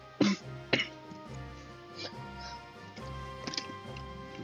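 Several sharp coughs and throat clears close to the microphone, two quick bursts at the start followed by softer ones, over a faint tonal background hum.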